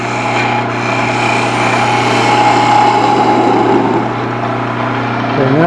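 A wood lathe cuts a recess into the roof piece of a turned ornament, producing a steady, close motor whine with a rough, even cutting hiss that holds for several seconds.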